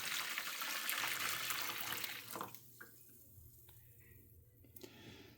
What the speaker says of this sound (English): I'm going to take my pan and I'm going to pour my Jello mixture into my pan.